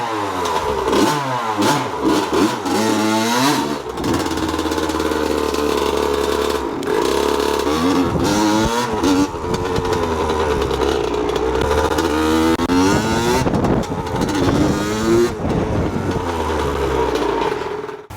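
Motorcycle engine with a freshly fitted new clutch being held at revs to break it in, loud and close, rising and falling through repeated throttle blips and sustained revving for the whole stretch, with no talk.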